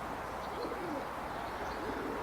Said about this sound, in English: There's pigeons on the roof.